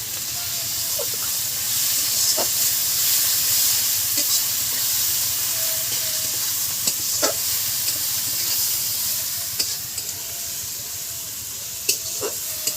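Chicken curry with chili powder and spices sizzles and hisses steadily while being stirred in a pan, with occasional scraping clicks of the stirring utensil, and a voice speaks at times.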